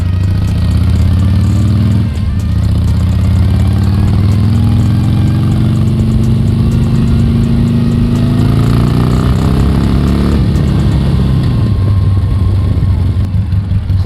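Harley-Davidson Sportster 1200 Custom motorcycle engine runs loud and close on a test ride, its rumbling pitch climbing steadily as it accelerates, dipping briefly around shifts, then rising again.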